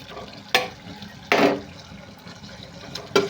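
Ginger garlic paste being stirred into a frying drumstick and brinjal curry, heard as three brief scraping stirs against the pan over a low background hiss, with no voices.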